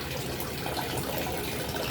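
Water draining from a third-floor fishpond, a steady, close gushing rush with no pauses, moderately loud and unbroken by voices.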